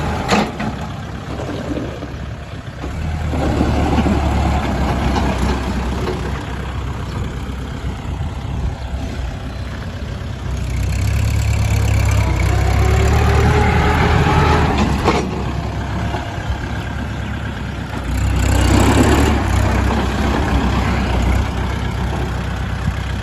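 A Kubota L4708 tractor with front loader and rear disc plough idles smoothly nearby, its low engine hum rising in a few louder swells as it runs, with no talking.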